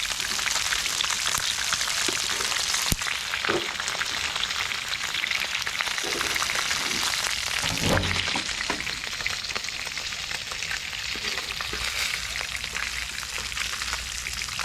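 Shrimp frying in a pan, a loud, steady sizzle and crackle that runs without a break, with a few brief pops and clinks.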